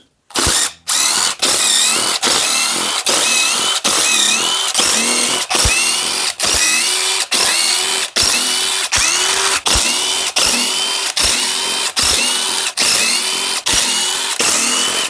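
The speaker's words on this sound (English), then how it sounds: "Got a bunch of T30s" A power ratchet whirs loudly in repeated bursts removing T30 bolts from an Audi 3.0T supercharged engine, each run ending in a sharp click before the next, a steady rhythm of roughly a dozen cycles close up.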